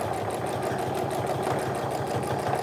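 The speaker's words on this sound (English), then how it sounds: "I'm gonna go ahead and stitch until I hit that seam allowance" A sewing machine stitches the corners of a tote bag, a steady rapid mechanical chatter with an even pulsing rhythm, close and continuous with no voices.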